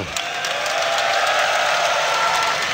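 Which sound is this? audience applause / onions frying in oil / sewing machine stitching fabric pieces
audience applause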